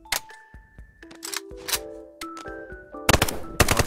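A PP19 AK fitted with a stick magazine fires in the VR game Bonelab in short sharp bursts, with metallic clicks and ringing mechanical handling noises between the shots, all close and without voices.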